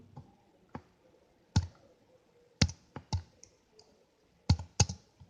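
Typing on a computer keyboard to enter a name into a web browser: sparse, separate key clicks in an irregular rhythm, close and fairly quiet against near silence, with no talk.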